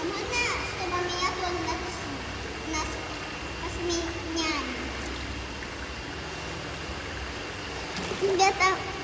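Children play and shout in a swimming pool on a hot day in Turkey, water splashing continuously with a livelier burst of splashes near the end, voices talking throughout.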